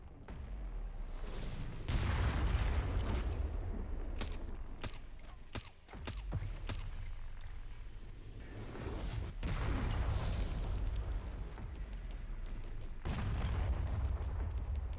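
Mortar explosions in the Resident Evil Requiem video game on insanity mode: a dense, rumbling barrage of deep booms, with a cluster of sharp cracks in the middle, continuing without pause.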